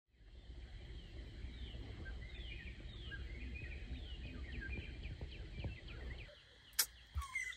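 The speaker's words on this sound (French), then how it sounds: "Il y a je ne sais pas combien de bruits d'oiseaux différents." Many birds singing together at early morning in Namibia's Caprivi region, a busy overlapping chorus of chirps, trills and short whistles held fairly steady, then fading near the end before a few close sharp knocks.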